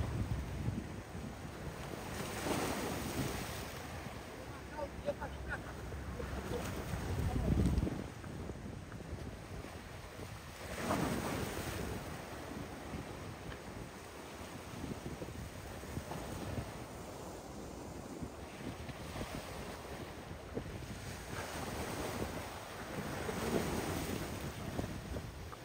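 Waves surge at high tide on Boa Viagem beach in Recife, rolling and washing against rocks near a screen barrier, a steady ocean roar with strong wind buffeting the microphone and a few heavier swells.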